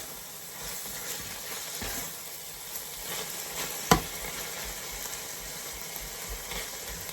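Chicken breast pieces frying in a pan as coriander is stirred through, a steady close sizzle and hiss with rhythmic stirring scrapes and one sharp clink of the utensil midway, no talking.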